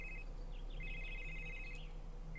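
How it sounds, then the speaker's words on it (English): A phone ringing in the Someday You'll Return game, a faint electronic trill repeating in short pulses over a low steady hum. "That sound. Well, it's my phone."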